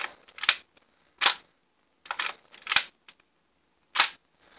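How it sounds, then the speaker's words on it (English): A Lego-built rifle with an M4-style charging handle and bolt lock being worked, giving five sharp plastic clacks and snaps, some in quick pairs, close and dry against near silence. "Added the M4 style charging handle, and the bolt lock, normal."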